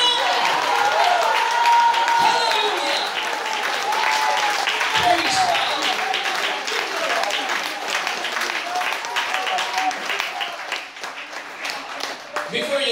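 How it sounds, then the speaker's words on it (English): A church congregation claps hands together in sustained, dense applause during worship, loud and continuous, with voices calling out praise over the clapping throughout. "We clap our hands"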